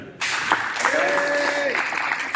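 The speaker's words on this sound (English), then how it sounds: "let's just give them another round of applause for encouragement." A school student council election crowd bursts into applause for nervous candidates, a sudden steady roar of clapping with a tonal voice-like cheer rising over it.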